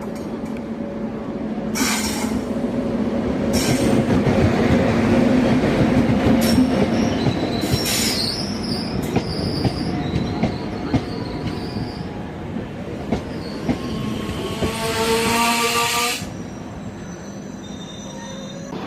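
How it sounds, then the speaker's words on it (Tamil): An oncoming train rolls past on a single line near Jaipur, loud and close, with rumbling wheels, rhythmic clatter and sharp intermittent wheel squeals before the noise eases off near the end. "ஆப்போசிட்டில் வந்து ஒரு ட்ரெயின் வந்துகிட்டு இருக்கு"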